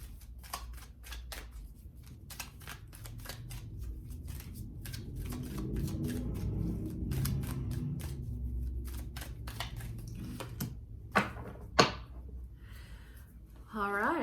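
Tarot cards being drawn and handled, with a soft run of papery flicks and shuffling rustles, a few sharper snaps near the end, close and moderately quiet.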